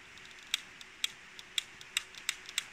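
A lighter clicking over and over without catching, with about ten sharp, light metallic clicks at an irregular pace, close and fairly quiet against a soft hum.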